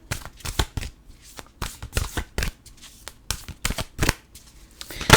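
Oracle cards being shuffled by hand, a quick series of crisp riffling flutters and soft slaps in an uneven rhythm, close and fairly quiet.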